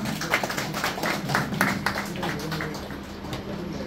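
An audience at an award presentation claps continuously, a busy patter of many hands that stays fairly loud and close, gradually thinning slightly toward the end.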